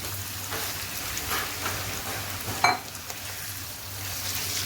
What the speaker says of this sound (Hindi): अब इसमें मैं ये जो मैरिनेटेड चिकन है ये मैं ऐड कर दूँगी